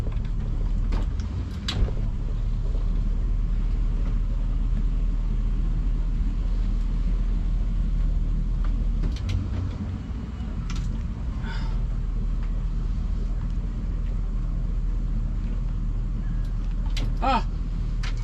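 Boat engines idle with a steady low droning rumble as the boat gets under way, a constant close mechanical hum with a few faint knocks and clicks over it and no clear talking.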